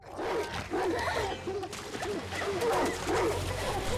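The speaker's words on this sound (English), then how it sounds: "Oh no, the dogs are gonna find you." Dogs bark and yip in a dramatic Game of Thrones scene, a short run of barks with whimpers, moderately close and mostly free of talk.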